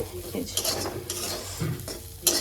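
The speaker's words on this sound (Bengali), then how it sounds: "আর এদিকে এখনো মেথি শাক ভাজা হচ্ছে" Fenugreek greens stir-fried in a pan, heard as steady spatula scraping and clattering against the metal with a soft sizzle underneath, close and moderately loud, no voices.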